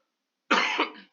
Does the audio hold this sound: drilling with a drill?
no